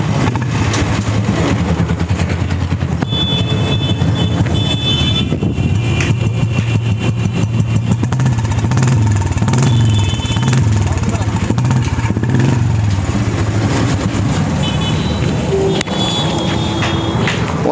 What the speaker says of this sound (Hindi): देखो नॉर्मल स्टार्टिंग है बुलेट का